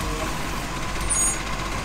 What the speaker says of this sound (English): Look, a real garbage truck.